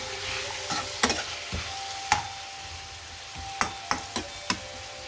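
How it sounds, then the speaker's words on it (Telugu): Cashews stirred into a pan of cooking mung bean and ginger mixture for chutney, a low steady sizzle with about eight distinct spatula knocks and scrapes spaced irregularly, close and clear. "మగ్గిన తర్వాత ఒక 5-6 జీడిపప్పులు వేద్దాం. వేసి బాగా కలిపేసి"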